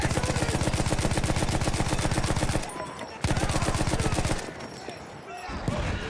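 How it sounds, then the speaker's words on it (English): Maxim machine gun firing in Battlefield 1: a loud, sustained stream of rapid automatic shots, briefly broken by a short gap, then another long burst before tailing off into distant battle noise. "The Maxim Gun was the first machine gun used in warfare that wasn't hand cranked like the Gatling gun."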